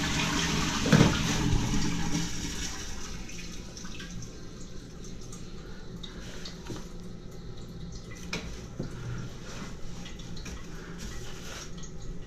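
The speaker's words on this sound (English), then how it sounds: "Flush the toilet." A toilet is flushed during work on a blocked drain, a loud rushing gush at first that settles into a steady, trickling refill of running water, with no talking.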